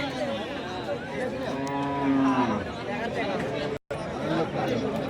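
Bullocks low with long, drawn-out moos at a busy livestock market, rising over a steady crowd murmur and chatter while people talk nearby.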